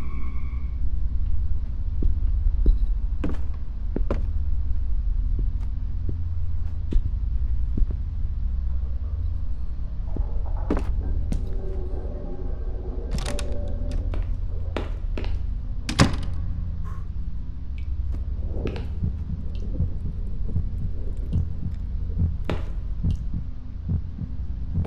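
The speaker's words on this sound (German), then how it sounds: "Ich höre die ganze Zeit nur meinen Herzschlag" A low, steady heartbeat throbs through the horror video game Song of Horror, a constant pulsing rumble with occasional sharp clicks and a door-like creak layered over it.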